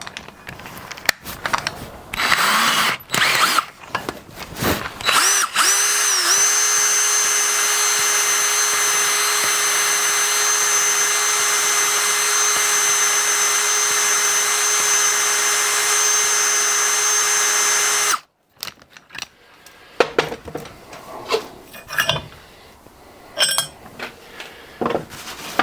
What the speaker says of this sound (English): I'm going to be a lazy bastard and put a drill on the back of it.